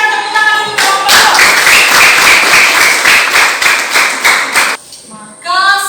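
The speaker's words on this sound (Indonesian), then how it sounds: "Kita berikan tepuk tangan untuk kelompok" A classroom audience of students gives a group a burst of dense, steady applause lasting several seconds. The clapping is close and loud, then breaks off sharply and gives way to a voice talking.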